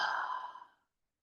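A single soft open-mouth exhale, breathy and close, fading out within about a second into silence.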